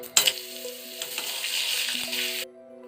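Spice paste hitting hot oil in a wok for paneer butter masala sets off a loud, dense, close sizzle that hisses steadily for about two seconds, then cuts off abruptly, with a low electrical hum underneath.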